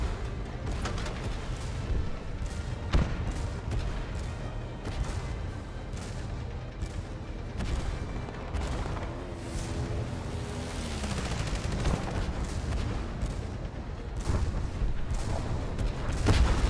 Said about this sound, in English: Under bombardment!